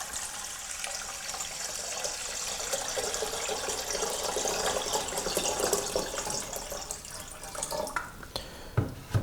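Two liters of filtered water pour steadily into a vessel for distilling oregano oil, a continuous splashing rush that ends with a few drips and clinks.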